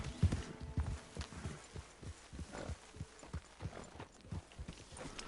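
Horse hooves clip-clopping in Red Dead Redemption 2, a quiet run of soft, regular thuds with a steady walking rhythm over faint game ambience, no talk.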